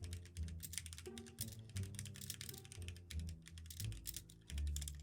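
Rapid keystrokes on a custom computer keyboard clatter in an uneven, continuous rhythm, close and fairly quiet, with no talking over them.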